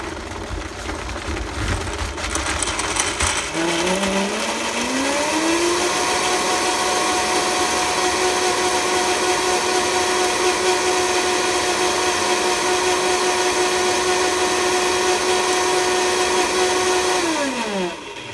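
A blender purees fruit, including coconut, in a blending bowl: the motor whirs up after a brief start, holds a steady loud whine for about fourteen seconds, then winds down at the end.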